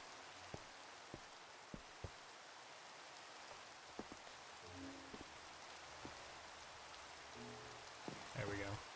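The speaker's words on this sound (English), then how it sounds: "Maybe the rain will disappear." Rain falls steadily in the Cobblemon mod of Minecraft, a faint, even hiss with sparse drip-like ticks scattered through it and brief soft game tones near the end, no talk.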